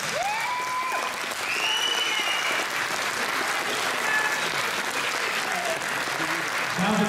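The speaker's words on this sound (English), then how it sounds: "Big round of applause, please," An audience at a bodybuilding contest applauds the finalists with steady sustained clapping and some cheers, while a voice speaks over it and talk continues underneath.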